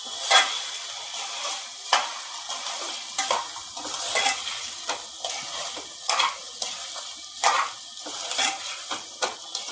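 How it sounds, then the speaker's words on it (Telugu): Chopped onions go into a pan with frying ginger-garlic paste, sizzling softly while a spoon stirs and scrapes against the metal in repeated sharp clinks, close and clear with no talking. "ఇప్పుడు మనం కట్ చేసి పెట్టుకున్న ఆనియన్స్ మొత్తాన్ని ఇలా వేసుకోవాలి"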